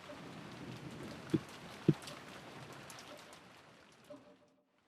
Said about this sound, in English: The voice that called after them was the sound of the rain.